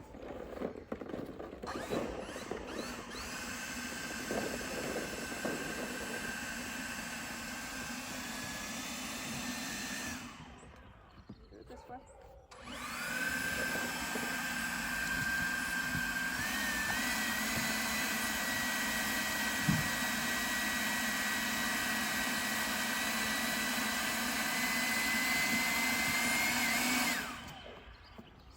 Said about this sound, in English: They have not seen the blower yet.